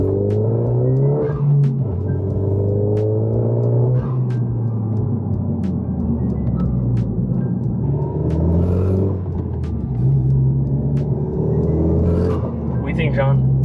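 A 10th-gen Honda Civic Si with an aftermarket downpipe and front pipe gives a deep exhaust drone and rumble under boost, rising and falling as it accelerates, while people talk in the cabin.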